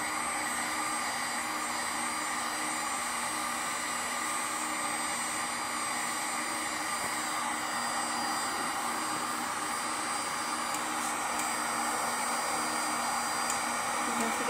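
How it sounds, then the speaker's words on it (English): A heat gun blows a steady, loud, broadband roar as it melts a Dollar Tree foam pumpkin held on a skewer, the even whoosh carrying unbroken from start to finish with no talk. "So I showed her how to use the heat gun."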